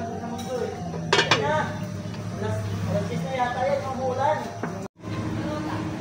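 A lid clinks onto a cooking pot of pork pochero with pork and beans. The metallic clatter is brief and near, with someone talking throughout.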